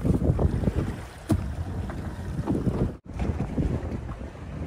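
A fishing boat runs offshore off Sydney, its engine and hull rumbling steadily under heavy wind buffeting the microphone and the wash of water, with a brief sharp dropout near the end.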